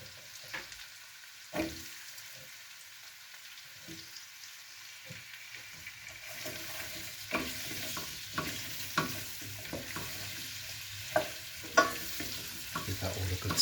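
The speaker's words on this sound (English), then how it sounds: "give that all a good stir and a coat" Potatoes and celery frying in a pan while being stirred, a steady low sizzle under repeated scraping and clattering strokes of a utensil, growing busier and louder in the second half.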